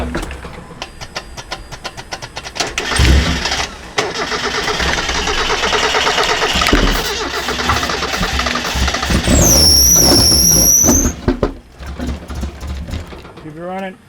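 Car engine running on moonshine cranks and catches, then revs unevenly with a high squeal partway through before settling, loud and close, with people talking around it.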